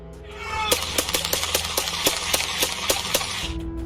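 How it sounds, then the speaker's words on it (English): A rapid burst of about a dozen sharp, evenly spaced police gunshots cracks out loudly over a low background hum, then stops. "you can hear the gunshots ring out"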